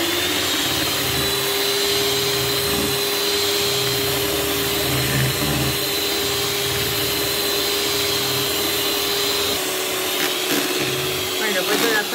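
An electric hand mixer whips cream for a pineapple cake in a home kitchen, a steady whirring motor drone running unbroken for the whole stretch, close and fairly loud, with a brief dip near the end.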